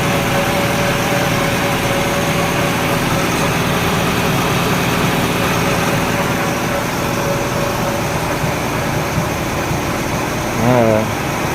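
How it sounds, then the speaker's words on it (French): A 1966 Ford Mustang inline-six engine idles with a noisy water pump. The loud, steady mechanical drone and whine stay close and unbroken, with a brief shift in tone just before the end. "La pompe à eau est bruyante."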